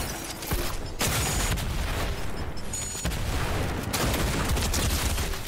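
Dense, continuous gunfire in a shooter video game, with sustained automatic bursts and booming shots that fill the whole stretch at close, loud level.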